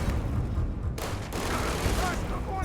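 Video game gunfire roars as a dense, continuous barrage of shots, loud and close, with no break for the whole stretch and one brief sharper burst partway through.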